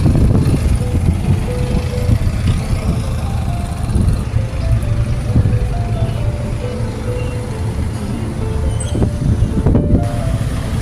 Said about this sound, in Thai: ลมแรงนะคะ วันนี้ทุกคน